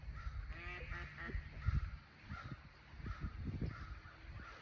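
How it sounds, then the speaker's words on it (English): Birds caw outdoors, several harsh repeated calls at a moderate distance, faint against a low background rumble. "I'm seeing some angry birds out."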